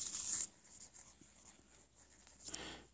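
Marker or chalk strokes scratching across a classroom board during a university lecture, a sharp loud burst at the start and another stroke near the end, with quiet room tone between.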